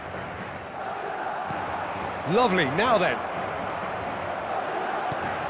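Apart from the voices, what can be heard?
stadium crowd cheering in a football video game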